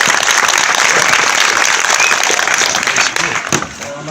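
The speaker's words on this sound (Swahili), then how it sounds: "Makofi." Audience applause after a student from Ayeko Boys High School in Baringo North speaks; loud, dense clapping holds steady, then thins and fades near the end.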